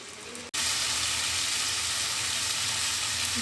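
Drumstick pieces, potato and tomato fry in a pan with a bright, steady sizzle that bursts on loudly after a brief quieter moment and continues unbroken, close by.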